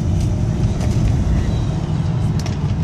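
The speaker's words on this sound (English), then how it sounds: "You hear the turbo whining there." A loud 1999 Bentley Arnage twin-turbo V8 engine roars steadily under acceleration, with a faint high turbo whine riding over the dense low rumble.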